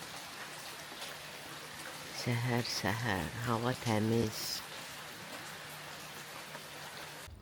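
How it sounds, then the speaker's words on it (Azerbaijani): Steady rain falling in the seaside village of Nabran, a soft constant hiss of drops in the background while someone speaks briefly in the middle. "Nabran'da super yağış yağır"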